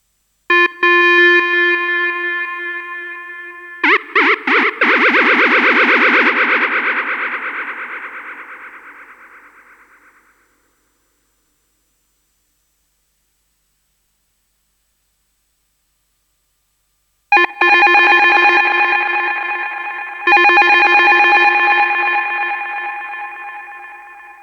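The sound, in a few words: analog square wave synth with square LFO pitch modulation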